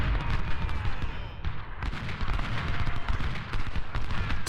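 Civil War artillery, including 12-pounder cannon, fires in a battle at Seven Pines within a strategy game: a dense, continuous rumble of overlapping booms and crackling shots at moderate loudness, steady throughout.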